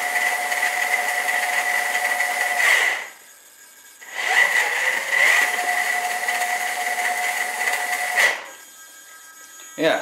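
Servo motors driving a NOMAD rover robot arm attachment, a bright whining buzz in steady bursts of a few seconds separated by short pauses, close by.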